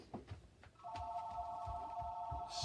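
A telephone ringing with a steady, sustained electronic tone that starts after a moment of low background thumps and holds to the end, moderately close and alone with no talk.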